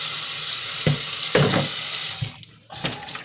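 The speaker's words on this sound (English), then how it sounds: "And rinse these off again with just plain water." Plantains rinsed with plain tap water in a kitchen sink: running water splashes with a few sharp spatters and a brief lull before the flow resumes, close and fairly loud.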